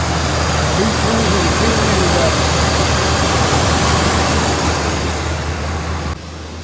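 Chevrolet 2.4 Ecotec engine idling just after a cold start, a steady, loud, low rumble with a constant drone, running evenly for several seconds before dropping slightly at the end.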